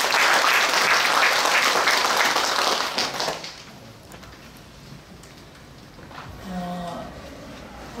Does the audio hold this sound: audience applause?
yes